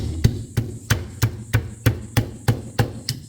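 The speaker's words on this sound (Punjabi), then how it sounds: "ਆਪਾਂ ਸਾਰੇ ਕਰੇਲੇ ਇਸ ਤਰ੍ਹਾਂ ਕੁੱਟ ਕੇ ਰੱਖ ਲੈਣੇ" Bitter gourds (karela) are pounded into a paste in a steady rhythm of about ten dull, close thuds, evenly spaced with no talk.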